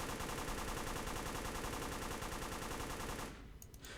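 Rapid sustained automatic fire from a Vz38 machine pistol in the World War II mod of the shooter ARMA 3, a dense unbroken rattle of shots for about three seconds that cuts off abruptly into faint echoing tail.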